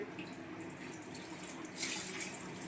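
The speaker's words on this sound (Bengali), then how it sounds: "লঙ্কাগুলোকে না ধুলে ভালো করে হবে না। আমি একটু ধুয়ে ধুয়ে ভালো করে করি।" Green chillies rinsed under a running kitchen tap, a soft steady stream of water splashing with faint swishes of handling, quiet and close.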